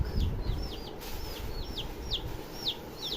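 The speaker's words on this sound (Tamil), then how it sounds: "கோழி குஞ்சுகள்." Young chicks cheep in a rapid series of thin, high, falling peeps, about a dozen calls spread evenly over a few seconds, close by against a low background rumble.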